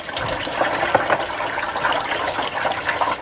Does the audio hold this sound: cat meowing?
no